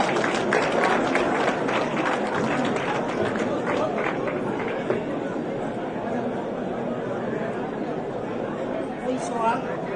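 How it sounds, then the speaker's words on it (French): Applause from a United Nations audience at a francophone cultural evening: dense, steady clapping that fills the room and tapers slightly, mixed with crowd murmur. "Sous vos applaudissements, s'il vous plaît."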